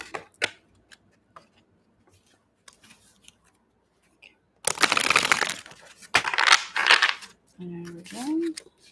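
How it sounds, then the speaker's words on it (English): Tarot cards being shuffled by hand, with quiet small taps and card handling at first, then two loud bursts of riffling cards in quick succession, close and crisp, followed by a short spoken murmur. "One more shuffle."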